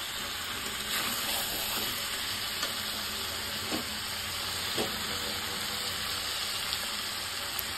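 Mutton frying in a pan under a dense, even hiss of sizzling that runs throughout, with a few faint stirring scrapes on top. Close and continuous, with no talking.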